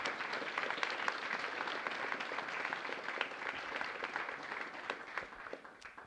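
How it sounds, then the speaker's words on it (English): Applause from a TEDx event audience thanking volunteers, a sustained patter of many hands clapping at moderate distance, steady and fading slightly toward the end. "Please give our volunteers a round of applause."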